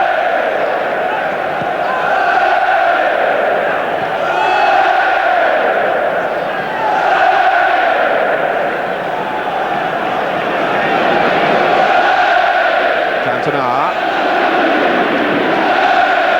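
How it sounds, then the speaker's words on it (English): Football crowd at a Manchester United v Blackburn Rovers match, a continuous loud roar that swells and dips in waves, with a commentator talking over it throughout. "Well, the crowd enjoying the passing,"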